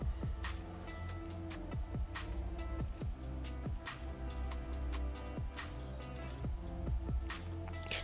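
A sewing machine stitches the sides and upper edge of a shirt collar, a steady low hum with a rhythmic throbbing pulse and a faint high whine, close and continuous with no speech.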